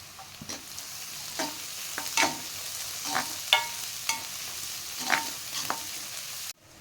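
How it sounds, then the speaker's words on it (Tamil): Chopped onions and green chilies fry in a pan for carrot rice, with a steady soft sizzle broken by repeated scraping stir strokes, close and moderately loud, ending abruptly. "வெங்காயம் வதங்கின்னு இருக்கு. இது கூடவே 2 பச்சை மிளகாய் பொடியாக கட் பண்ணி வச்சுருக்கேன், அதை சேர்த்துக்கிறேன்."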